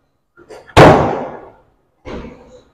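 A Honda Accord Excellent saloon's engine hood slammed shut: a few light handling taps, then one loud, sharp metallic bang that rings out briefly, followed by a softer second thud about a second later.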